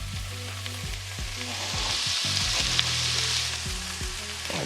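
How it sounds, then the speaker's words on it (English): A seasoned mixture with salt and black pepper sizzles steadily in a pan while being stirred, a continuous close frying hiss with light scraping and no voices. "mix it up for just about another 30 seconds until it becomes fragrant"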